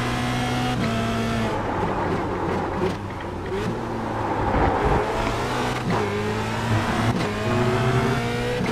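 Renault 2.0 race car engine lapping Spa in iRacing, a loud, steady close engine drone with repeated revs rising and dropping through gear shifts, with no talking.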